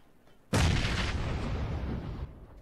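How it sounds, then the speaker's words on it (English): A grenade detonates in PlayerUnknown's Battlegrounds, a sudden loud blast that booms out and then rumbles, slowly fading over about two seconds with no talking. "Is that a nade?"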